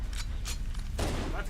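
A grenade blast in Halo: Combat Evolved, a booming burst with crackling gunfire around it, loud and close amid dense battle noise.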